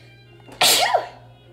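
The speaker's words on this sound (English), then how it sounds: "I'm gonna sneeze." A single sharp, loud sneeze bursts out suddenly and fades quickly against a quiet background hum.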